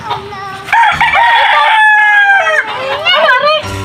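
A rooster crows loudly and close by, one long drawn-out call followed by a shorter rising crow, with no other sounds around it.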